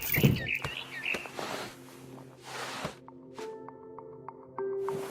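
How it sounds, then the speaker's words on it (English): A barn swallow in the video game What Remains of Edith Finch gives a quick run of bright chirps at the start, followed by soft shuffling and a faint steady tonal hum. "Then I heard chirping outside my window. It was a barn swallow going back to her nest."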